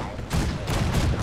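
Heavy ship cannon fire in Fallout 4, with several booming blasts in quick succession over a rumbling, noisy background.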